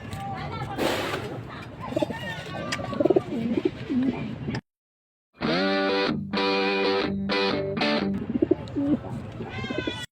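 A pet pigeon coos in soft, repeated murmurs under steady talk, followed by a brief silence and then a denser burst of harmonic, slightly distorted cooing.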